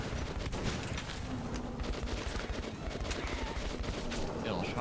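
Double-barrel shotgun in the game Metro: Last Light, both barrels firing amid a dense, faint clatter of gunfire and sharp bursts over several seconds, with voices present.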